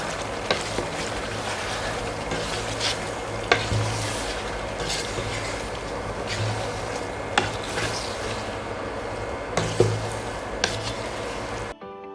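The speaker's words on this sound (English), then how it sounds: "1 teaspoon cumin powder, and mix this really well" Chicken karahi with chili, coriander and cumin powder stirred in a pot, a steady sizzle under repeated scraping strokes and occasional spoon knocks against the metal, without speech.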